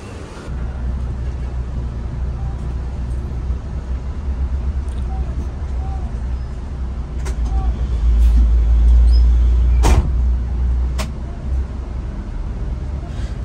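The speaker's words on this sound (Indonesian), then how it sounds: "bis berangkat meninggalkan rumah makan Titin yang ada di Tongas, Probolinggo menuju ke arah Banyuwangi" Mtrans intercity coach pulling away from the Titin roadside restaurant in Tongas, Probolinggo, heading toward Banyuwangi; a steady low engine drone swells briefly as it moves off, with faint background noise and a few clicks.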